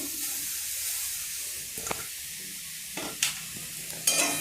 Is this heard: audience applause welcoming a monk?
no